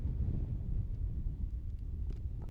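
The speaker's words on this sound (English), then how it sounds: "Very windy conditions here at the ETW as the wind picks up once more." Gusting wind at an outdoor cricket ground buffets the microphone with a steady low rumble throughout.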